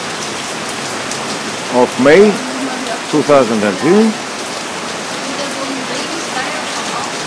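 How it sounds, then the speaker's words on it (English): Very heavy summer rain pours down at night in Athens, a dense constant roar of water on surfaces, while someone speaks briefly over it. "Athens is under very heavy rain."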